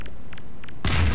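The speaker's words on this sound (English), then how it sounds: "Nice grenade." Grenade blast in the video game Half-Life: Downfall: a few faint, quick clicks followed by a single loud, sudden explosion that fills the end of the moment.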